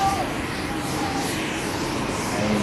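An Air India airliner takes off at Haneda airport with a steady broad jet roar, unbroken and fairly loud throughout, as if heard from a distance.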